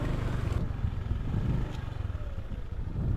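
A motorcycle rides along a rural road, with a steady close engine drone and some rattling over the rough ground.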